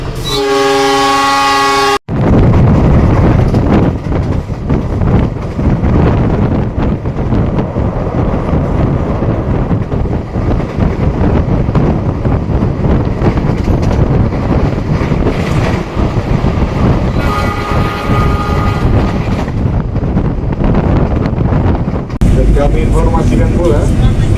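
A train horn sounds at the start as the Cikuray economy stainless-steel passenger train departs a station in Indonesia, then a loud continuous rumble of the moving train, with the horn returning briefly near the end.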